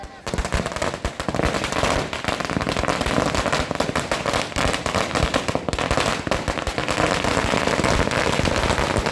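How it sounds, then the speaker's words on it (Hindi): Dense, continuous crackling of celebratory firecrackers and fireworks at a political celebration in Maharashtra, India, rapid bursts popping like machine-gun fire without pause, loud and close. "मुंबई से बारामती तक आतिशबाजी होने लगी।"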